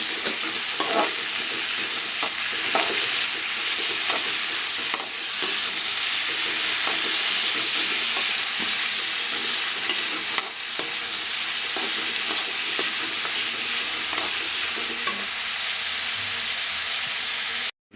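Chopped tomatoes frying in a pan for capsicum vangibath, a loud, continuous sizzle and hiss with steady scraping stirs and occasional clacks of the spoon, close and alone without talk.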